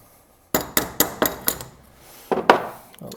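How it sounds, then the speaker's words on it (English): Sharp metallic taps ring out as a hammer knocks the crown race off an SR Suntour Durolux EQ bike fork: five evenly spaced close strikes, a pause, then two or three more. "So if I should just keep tapping this now."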